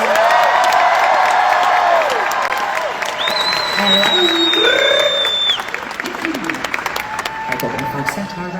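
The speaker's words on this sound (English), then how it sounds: "So please give a massive round of applause to Samira, Amanda and Katie." Large concert audience in a Las Vegas venue applauding and cheering loudly for several seconds, with whoops and shouts rising over a dense wash of clapping that eases slightly toward the end.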